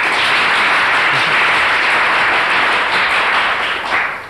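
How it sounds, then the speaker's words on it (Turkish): Studio audience applause on a 1992 Turkish TV game show, a thick, continuous roar of clapping from a large crowd, loud and even throughout before easing slightly at the end. "Şimdi bu güzel arkadaşımızı hayatta başarılı olması dileğiyle hemen alkışlıyoruz."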